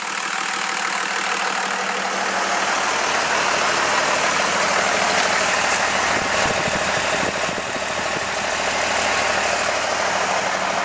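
A 12-valve Cummins diesel in a 1989 Dodge W250 truck idles close and loud, a steady rough clatter with a faint knock that holds evenly from start to finish with no voices.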